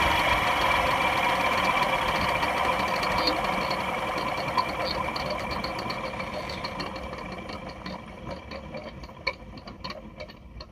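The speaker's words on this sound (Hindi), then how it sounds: "जब भी हम गाड़ी को बंद करेंगे ना तो एक फैन चलने जैसी आवाज आती है, वो फैन खराब का।" A Maruti Suzuki Brezza diesel has a faulty cooling fan that keeps running after the engine is switched off. It makes a steady mechanical whir with fine ticking and rattling that slowly fades, heard up close with no talk.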